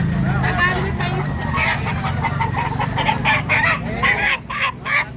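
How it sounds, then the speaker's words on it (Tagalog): A yellow native rooster in Baliwag, Bulacan crows and clucks nearby among other fowl, with steady background noise and people talking throughout. "Ayan, tandang oh."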